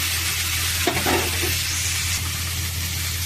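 Okra sizzles steadily in a hot pan while a utensil stirs it, a continuous dense frying hiss with a brief scraping stir partway through, close and alone.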